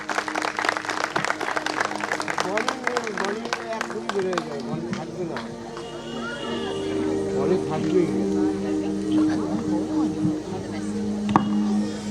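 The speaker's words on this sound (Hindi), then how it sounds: "एक जोर ताली बजाएंगे इनके लिए प्रियो" Crowd applause at a Christmas carol event for a special guest, rhythmic group clapping at first that fades into murmuring crowd chatter and babble, with voices talking throughout.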